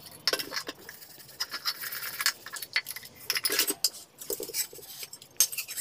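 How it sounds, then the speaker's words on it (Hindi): Steel dishes and cutlery clatter and clink in quick, irregular bursts while being washed by hand in warm water with detergent powder, loud and close with no talking. "इसमें सर्फ डाल के अब मैं धो ले रही हूँ सब"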